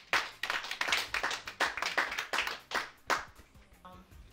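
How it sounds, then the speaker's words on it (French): A small group clapping by hand, a sparse and uneven run of sharp claps that thins out and fades after about four seconds, heard close and without other sound. "Est-ce qu'on peut applaudir?"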